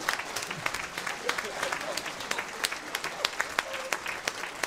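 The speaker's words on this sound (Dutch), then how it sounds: "Applaus voor oma." Outdoor crowd applauding at a civic homecoming celebration for a Paralympic swimming champion, a steady patter of many hands with sharp individual claps standing out, moderately distant and fairly soft, with murmuring voices underneath.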